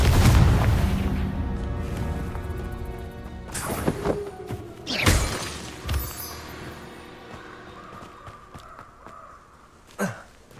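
A Confringo explosive spell in Hogwarts Legacy: a loud rumbling blast at the start fading out, then several sharp booms and impacts spread over the following seconds, with lingering game ambience and no talk.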